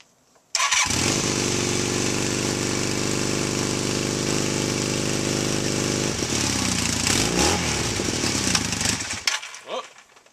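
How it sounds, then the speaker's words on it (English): A motorcycle engine on full choke starts abruptly and runs at a loud, steady, fast idle, then the revs shift and waver before it cuts out near the end. "So, let's start this one up. Choke, full choke."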